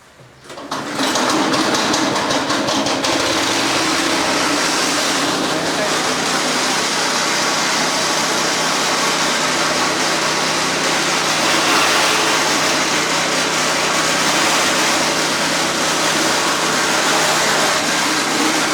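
A Briggs and Stratton engine is test-run after purchase. It starts up after about a second and then drones steadily and loudly with a buzzy, even hum until the end.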